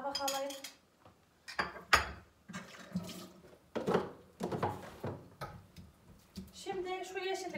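A plate taken from a stack in a village kitchen, setting off a series of close clattering knocks of dishes and utensils, with someone talking between the clinks.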